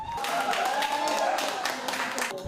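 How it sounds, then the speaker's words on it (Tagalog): Fans at a sports bar watch party in Pasig cheer and clap during a tennis final, a dense steady burst of shouting and applause close by, with voices mixed into the crowd noise throughout. "Walang tigil sa hiyawan at palakpakan ang fans sa tuwing makakapunto si Ayala."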